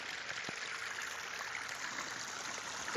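Irrigation water flows steadily along a furrow in a sugarcane field with a soft, continuous rushing trickle, faint and even, with no voices.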